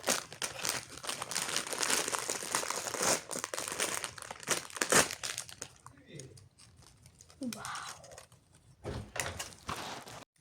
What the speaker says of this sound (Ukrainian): Зараз відкриємо пачечку чіпсів.